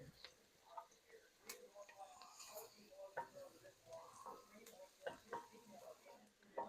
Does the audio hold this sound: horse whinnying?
no